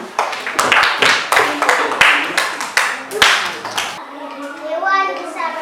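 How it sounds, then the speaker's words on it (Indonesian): A group of children claps in quick, rhythmic bursts in a classroom lesson, sharp hand slaps repeating in several rounds, close and loud, then giving way to young voices speaking. "Tepuk tangan."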